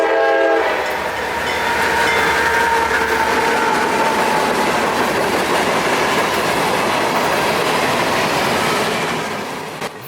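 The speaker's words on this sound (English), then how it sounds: "This is CSX train B218, as needed empty phosphate hoppers out of Cicero, Illinois off the BNSF Railway" A CSX freight train hauling empty phosphate hopper cars rolls past loud and near, with a steady roar of wheels and rail clatter. A horn sounds at the start, then the noise holds and fades slightly at the end.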